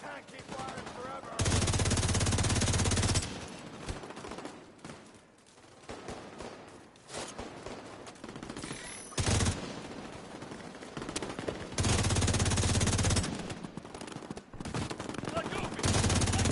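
Automatic weapon fire in the tactical shooter The Division 2, several loud, sustained bursts of rapid shots separated by quieter stretches of scattered firing and game noise.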